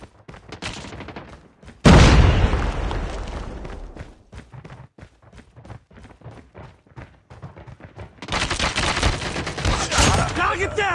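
A frag grenade goes off in Call of Duty Mobile with a loud, booming blast that rumbles away. Quick footsteps and gunfire follow, and a second burst of noise comes near the end.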